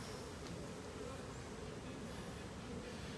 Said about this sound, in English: As you can tell, there's quite a few still swarming, looking for that queen.